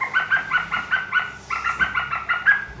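A wooden bird call (appeau) made to imitate a blackbird gives a rapid series of bright, clipped chirps in two quick bursts, played close and clear against near silence.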